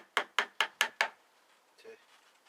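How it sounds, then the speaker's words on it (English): A knife shaves wood at the edge of a piece for a bushcraft container, making five crisp, evenly spaced scraping strokes up close, then a quieter rustle. "I'm just taking shavings off the edge"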